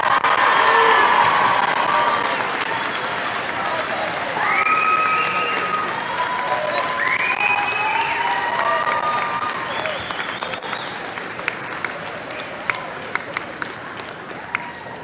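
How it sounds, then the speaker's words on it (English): Sustained applause from a large crowd at a high school graduation ceremony, with some cheering and whoops over the clapping. It fades slightly and then ends in scattered individual claps. "One more round of applause, please."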